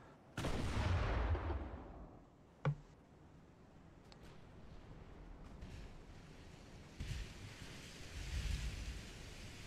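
Warship guns fire in the naval battle game Ultimate Admiral: Dreadnoughts: one long rumbling boom, then a sharp single crack, with faint sea-like wash and later softer distant thuds, all fairly quiet.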